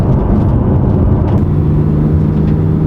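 Porsche 911 Carrera 4S accelerating on a winter drive, a loud steady engine roar heard from inside the cabin with a deep rumbling drone and a brief shift-like dip midway.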